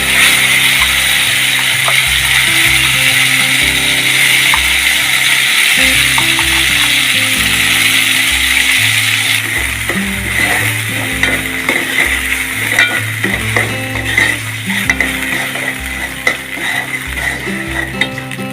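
Loud, steady sizzling of spice paste frying in hot oil with onions and green chillies, with intermittent scraping and stirring clatter in the pan throughout.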